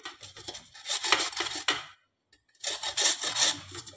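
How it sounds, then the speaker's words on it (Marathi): Peeled potatoes being grated on a hand grater held upright, close rhythmic rasping strokes in two bursts separated by a short pause. "आता आपल्याला हे बटाटे या किसणीने किसून घ्यायचे"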